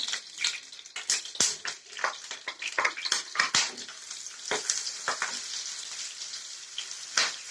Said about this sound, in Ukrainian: І будемо її жарити до золотистого кольору.